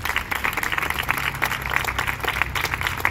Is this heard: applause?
yes